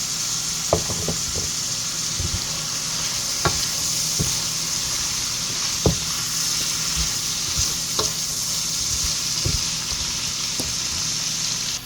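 Broccoli sizzling in a pan of pancit, steady frying hiss with scattered sharp clicks of a utensil stirring and tapping against the pan.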